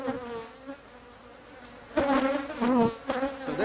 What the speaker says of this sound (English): you see the bees with the pollen sacs running around?